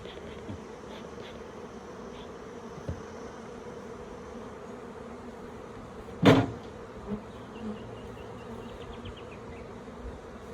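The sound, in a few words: honeybees buzzing around crowded hives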